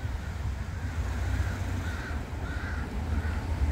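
Crows caw repeatedly beneath a persimmon tree outdoors, a steady series of harsh calls at moderate distance over constant wind and rustling background noise.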